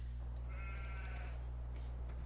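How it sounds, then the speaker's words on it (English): Sheep bleating on a farm in Farming Simulator 17, a single drawn-out bleat standing out over a steady low hum, fairly faint and distant. "Boy, those sheep are loud."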